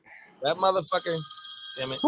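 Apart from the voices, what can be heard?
old wall telephone ringing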